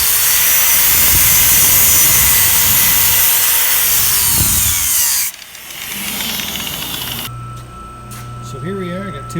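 A power drill bores a hole through a plate meant as an end piece for a conveyor roller: a loud, steady whining grind for about five seconds, then it cuts off, leaving quieter workshop noise.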